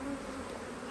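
Honey bees buzz steadily across frames in a hive recovering from a swarm, a dense, continuous close hum with no voices.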